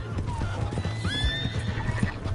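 In Red Dead Redemption 2, a horse gives a sharp rising whinny close by, with hooves clip-clopping and thudding beneath it.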